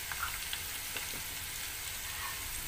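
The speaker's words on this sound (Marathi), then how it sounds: "मंद आचेवरती परतवायचं आहे।" Puffed rice chivda being sautéed in a pan over low heat, a soft continuous sizzle with faint scraping of stirring, quiet and steady.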